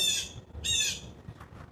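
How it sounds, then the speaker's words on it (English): Birds squawk outdoors in two loud, harsh bursts, followed by fainter calls, over low rumbling background noise. "The birds are talking too."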